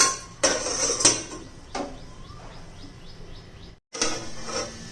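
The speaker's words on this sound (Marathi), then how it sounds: "त्याच्यावर झाकण ठेवून आपण शिजून देऊया." Metal cookware clanks as a lid goes onto a pan of ridge gourd cooking in a home kitchen: a few sharp clinks and knocks at irregular intervals, close by, with quiet moments between them and no speech.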